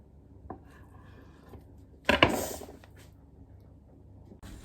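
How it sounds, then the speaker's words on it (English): A knife chops beef on a board in a home kitchen, a few soft taps followed by a loud burst of rapid chopping strokes, with a quieter knock at the end. "I will get back to you once I've chopped up the beef properly and it's all in the bowl ready to be marinated"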